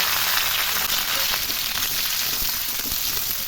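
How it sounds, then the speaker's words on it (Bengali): Papaya, sweet potato, carrot and drumstick pieces frying lightly in oil for shukto, a loud, continuous crackling sizzle with occasional stirring pops, close up and without speech. "রাঙা আলু, গাজর আর সজনে ডাঁটা সবগুলোকে সুন্দর নাড়িয়ে চাড়িয়ে হালকা ভেজে নেব।"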